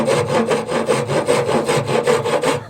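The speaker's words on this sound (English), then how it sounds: "and start filing that down" A hand file rasps back and forth over wood while a back scratcher is shaped, about a dozen even rhythmic strokes, close and clear with no talk.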